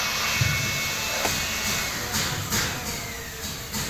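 Car turbocharger spinning, a steady airy whine and hiss with faint intermittent clicks and knocks, heard up close with no speech.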